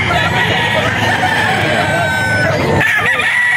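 A gamefowl stag rooster of the SBR line crows loudly and up close at a Bocaue farm breeder, one long sustained call holding steady for about three seconds before breaking off.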